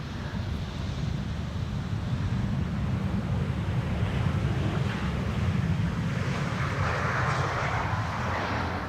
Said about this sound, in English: it's time for an A350 arriving from Boner